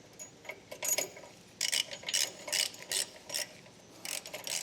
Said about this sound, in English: Now we're going to get this bolt snugged up, and we're going to use a 15/16 socket for that.